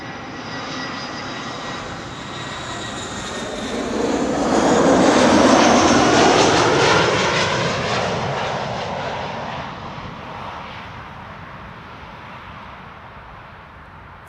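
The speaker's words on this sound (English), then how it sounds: "you may have missed the landing of the first 747 of the show" A Boeing 747 landing at Amsterdam Schiphol Airport: a broad jet engine roar swells from a distance, peaks loud near the middle, then slowly fades with a whining tone over steady background rumble.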